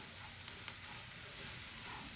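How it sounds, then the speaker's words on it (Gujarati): Onions and garlic sautéing in a pan over a raised gas flame, a steady dense sizzle and crackle throughout with no talking. "ડુંગળીનો કલર ચેન્જ થાય ત્યાં સુધી આપણે સાતરીશું."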